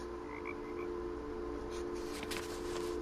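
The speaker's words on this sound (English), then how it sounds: "my controller croaked like a frog and that scared me" A game controller lets out a frog-like croak during What Remains of Edith Finch, a short rasping call repeated a few times over steady background game ambience, with no talking.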